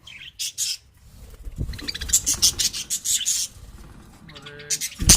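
Budgerigars in a breeding colony with nesting boxes chirp and squawk in short, bright bursts, several birds calling close by in an uneven rhythm with brief pauses between calls.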